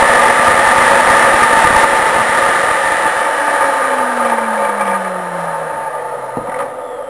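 A DEWALT 15 amp cut-off saw runs loud and steady at close range, its high motor whine holding, then slowly winding down in pitch toward the end.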